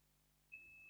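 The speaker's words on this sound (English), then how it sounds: "If I touch on the other side of the next capacitor, it's beeping" A multimeter gives a clean, faint continuity beep as its probe touches ground beside a capacitor on an HP Pavilion G6 laptop board. The tone starts suddenly halfway through and holds steady to the end.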